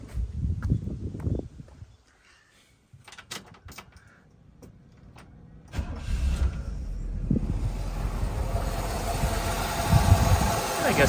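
A classic GM car engine, cold, is started and settles into a rough idle: a few mechanical clicks, then the engine catches and runs with a steady, loud rumble that continues to the end.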